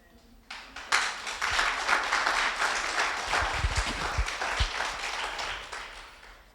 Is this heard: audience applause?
yes